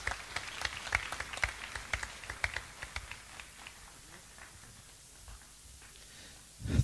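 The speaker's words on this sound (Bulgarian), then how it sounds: "Може ли да ръкопляскаме на пастор Ангел?" Church congregation applauding for a pastor, a burst of many hands clapping that swells briefly and then fades away to near quiet.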